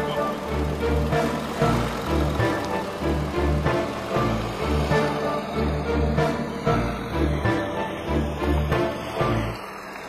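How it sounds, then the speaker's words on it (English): A 2014 Volkswagen Touareg TDI diesel climbs a steep off-road hill in the Colorado Rocky Mountains, its engine laboring in a steady, pulsing drone under load with some bumps and rattles. "punch the accelerator, all four wheels just take me up the hill"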